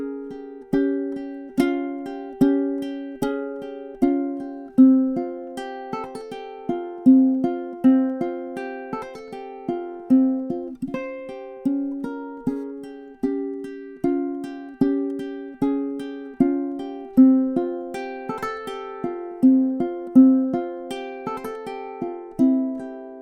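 A ukulele plays theme 2, melody B of Deck the Halls, plucked and strummed chords in a steady, even rhythm, close and clear, with no talking.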